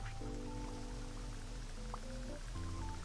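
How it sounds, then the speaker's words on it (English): Rain falling in the video game Autonauts, a faint steady patter mixed with background game music, with no talking. "It's raining."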